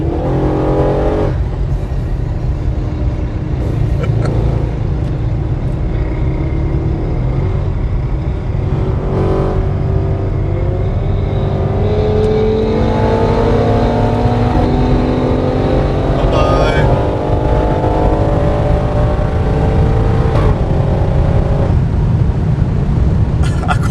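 An Audi RS6 engine roars and revs through the whole stretch, rising and falling in pitch, loud and close, with faint speech underneath.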